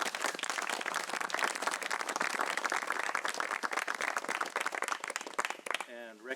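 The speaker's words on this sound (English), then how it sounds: "I'd like to give just a round of applause and thanks to the Trautman family." Crowd applause at an outdoor park dedication, a dense sustained patter of many hands clapping steadily, ending as a voice begins speaking.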